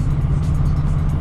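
A turbocharged Foxbody Mustang's engine drones loud and steady as the clutch slips under power, a deep sustained rumble with a pulsing whoosh above it, heard alone.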